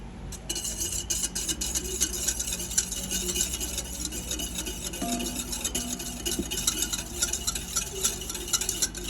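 Homemade goat milk lotion with oil is stirred in a container, giving a continuous close scraping, swishing sound with steady rhythm and no talking.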